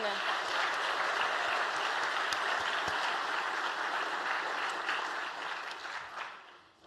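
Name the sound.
audience applause for top 10 startup pitches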